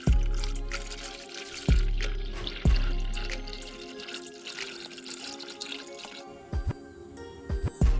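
Coolant poured slowly into a Nissan 350Z/Infiniti G35 radiator after installing a Mishimoto radiator, heard as close liquid gurgling and splashing with intermittent thumps and drips, no talk.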